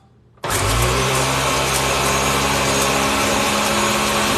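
After a short quiet start, a blender roars on abruptly and runs loud and steady, whirring through watermelon and key lime juice without pause.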